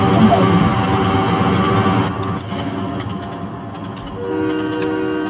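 Train running in Trainz Simulator 2012, a loud, close rumble of wheels and engine with a sustained horn-like tone that fades, then steady rolling noise and rail clatter.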